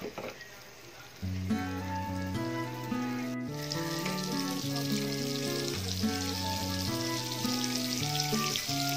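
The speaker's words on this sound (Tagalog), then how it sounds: "Lagyan po natin ng butter ang ating takoyaki pan." Butter melting in a hot takoyaki pan gives a continuous sizzle that stays beneath prominent melodic background music for most of the stretch.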